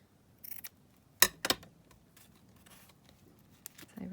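Two quick, crisp snips of scissors trimming lace for a vintage paper tag, close and fairly quiet, with faint rustling handling between cuts.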